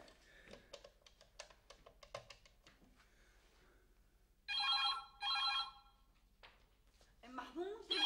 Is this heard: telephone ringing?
yes